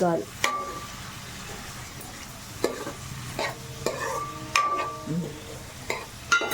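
Chopped onions with turmeric fry in a pan for a spicy chicken masala curry, a soft sizzle broken by repeated scraping knocks of a ladle stirring, with someone talking over it.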